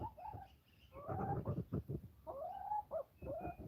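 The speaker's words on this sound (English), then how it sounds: "Oh, I can hear all the parrots." Repeated harsh squawks and chattering calls from parrots, fairly close and overlapping, with a steady outdoor murmur underneath on a muddy homestead.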